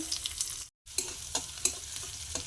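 Cumin and onion sizzle in hot oil for a papaya dal tadka: a soft, steady crackle broken by light stirring clicks, with a brief silent gap.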